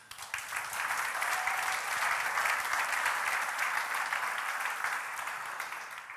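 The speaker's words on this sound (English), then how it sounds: "Would you please give them a round of applause?" Audience applause for event sponsors at a talk, a steady full round of clapping from a large crowd that holds evenly for about six seconds before easing slightly.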